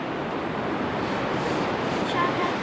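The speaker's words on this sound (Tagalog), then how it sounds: "Parating na yung alon. Ang sarap ng wave." Ocean waves wash onto a beach in a steady, close surf roar mixed with wind buffeting the microphone, with no clear talk.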